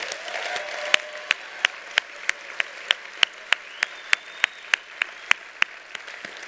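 Applause at the 2019 HRC Los Angeles gala dinner: a steady run of sharp, close claps in an even rhythm rides over a softer wash of crowd clapping throughout.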